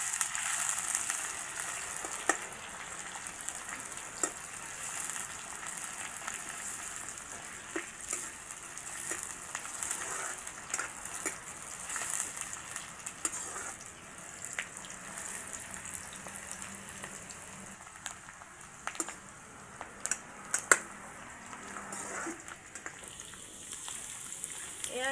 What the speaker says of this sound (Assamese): পিঁয়াজখিনি অকণমান আমি ভাজি ল'ম